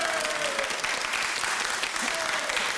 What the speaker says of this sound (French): c'est vous qui l'emportez sous les applaudissements du public